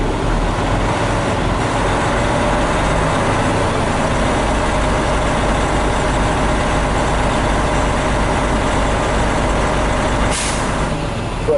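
A truck engine idles loud and close in a constant drone while air pressure builds toward governor cutout, with a short sharp hiss of air near the end.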